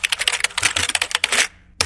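Rapid typing on a computer keyboard, a dense run of close key clicks that stops abruptly, then a brief final tap after a short pause.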